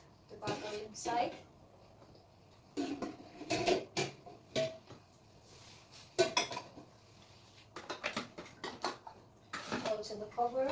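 Baby bottles set into a sterilizing pot, scattered clinks and hard knocks of bottle against pot in irregular clusters, with a person talking between them.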